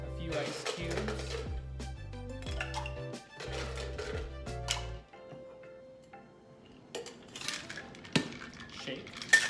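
Ice cubes dropped into a cocktail shaker while mixing a Singapore Sling, several clinks and rattles against metal in close succession, then quieter clatter; no talk.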